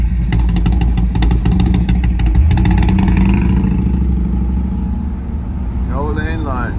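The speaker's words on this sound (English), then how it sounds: "Motorcycle." A motorcycle passes close by a car on a road through a construction zone, its engine rumble loud and steady under the road noise, with a brief voice near the end.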